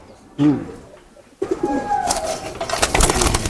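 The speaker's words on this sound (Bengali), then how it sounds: "তো দেখেন, কবুতরগুলো কিন্তু খুব অ্যাক্টিভ।" Giribaz pigeons coo close by in a few low, throaty bursts, followed by steady rustling and shuffling noise.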